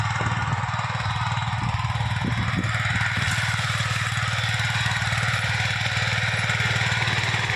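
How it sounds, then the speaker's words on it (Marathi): A tractor works a millet field near a farmhouse, its engine droning steadily in a low, even thrum, fairly close and loud throughout with no talking. "बघा इकडे ट्रॅक्टर चालू आहे"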